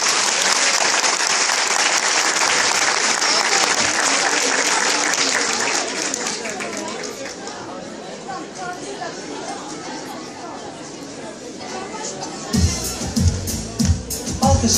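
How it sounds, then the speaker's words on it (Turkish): Loud, dense applause from a large crowd at a kindergarten children's concert, fading to a softer patter and chatter halfway through, then swelling again as music or voices come in near the end. "Alkışlar eşliğinde başlıyoruz."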